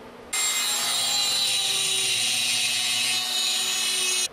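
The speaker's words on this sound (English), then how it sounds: "I use just a regular Dremel tool with a tile cutting bit." A regular Dremel rotary tool fitted with a tile cutting bit grinds into a knife tang, a steady high-pitched whine that starts abruptly and runs continuously at close range before cutting off, with no talking.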